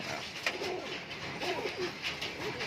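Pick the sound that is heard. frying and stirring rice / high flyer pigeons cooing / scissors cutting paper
high flyer pigeons cooing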